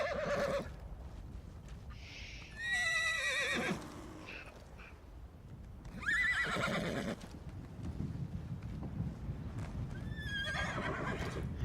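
Horse in The Elder Scrolls Online neighing three times in loud whinnies spaced a few seconds apart, over a steady clip-clop of hooves on the ground, with no talking.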